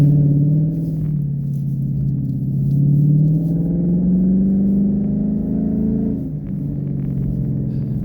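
A 2016 Ford Mustang GT on Bridgestone Blizzak WS90 tyres power sliding on snow at -20 degrees, its engine droning loud and rising in pitch before easing off near the end.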